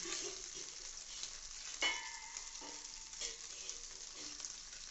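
Fried rice is stirred in a frying pan, a quiet steady sizzle broken by a few scraping spatula strokes, close and without talk.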